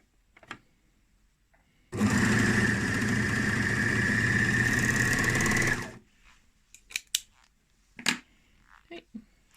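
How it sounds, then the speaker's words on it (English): A sewing machine runs in one steady four-second burst while stitching elastic onto the fabric ends of a scrunchie, followed by light handling clicks and taps of the fabric. "you're going to take that piece of elastic and you're going to sew on the other side"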